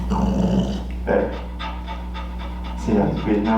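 A dog breathes in heavy, rhythmic pants while nervous during foot-sensitivity handling training; the panting runs steadily and close throughout over a constant low hum, with a few low growl-like bursts and people talking quietly nearby.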